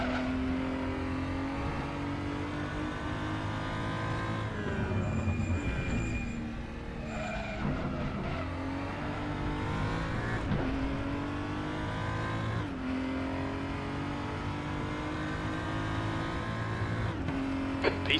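A BMW 235i races around Laguna Seca in the RaceRoom sim, its engine note rising and falling through gear shifts and corners, steady and close throughout with no talking.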